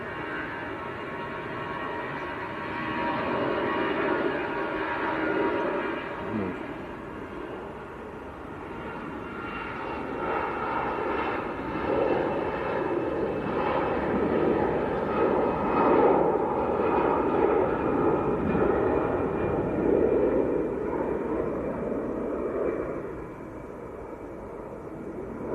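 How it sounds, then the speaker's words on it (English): A Boeing 777-200 comes in to land at Manchester Airport, its engines a steady loud rumbling roar that builds and lingers for the whole pass before easing slightly at the end. "We'll watch the 777 come in."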